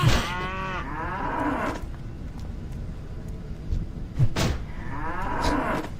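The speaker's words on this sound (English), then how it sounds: "Then I killed some cows." Cattle mooing in World of Warcraft: two long, loud harmonic moos, one at the start and another near the end, with a quieter gap of ambient game noise between them and no talk.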